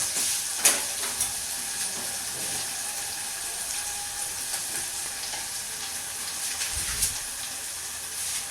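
Onions frying in a pan while being stirred, a steady hiss of sizzling oil with scraping and occasional clinks of the spoon, close and continuous, heard alone without talk.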